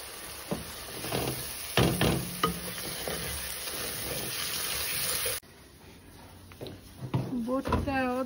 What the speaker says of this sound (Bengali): রসুনটা ভাজা নিচ্ছি।